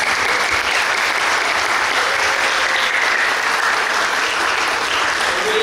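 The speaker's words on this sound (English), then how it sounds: "let's give us a round of applause to Professor Chaucer." Steady, dense clapping from a large audience at a university guest lecture, sustained and loud throughout with no voices standing out.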